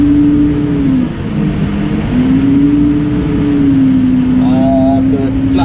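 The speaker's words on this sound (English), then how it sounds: "At the minute I'm driving his Case Puma." A Case Puma tractor drives steadily during a potato harvest in Pembrokeshire, pulling a flat tray of boxes. The engine drones loud and close with a slowly shifting pitch, and a voice talks over it.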